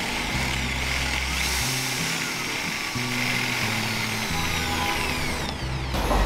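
A power drill bores into a wall through a plastic cup held over the hole to catch the dust, a loud continuous motor whine that shifts pitch in bursts as pressure changes.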